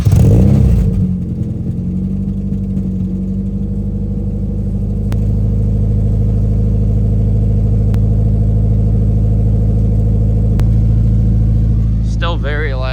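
Close, loud idle of a Nissan 240SX running new ISR headers with exhaust leaks and a loose hanger, a steady rumbling drone with a brief rise in revs partway through and a voice at the end.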